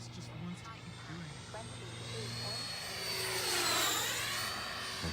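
A custom Freewing 90mm F-4 RC jet with afterburner flies past, its ducted-fan whine rising and sweeping in pitch as it nears and passes, with people talking nearby under the sound.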